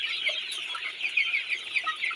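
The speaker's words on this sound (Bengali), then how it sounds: "এই দেখেন এই মুরগি, আল্লাহর রহমতে মুরগি সুস্থ আছে" Sonali chickens on a farm cluck in a dense, continuous chorus of soft, overlapping calls, fairly close but modest in volume, with no voices.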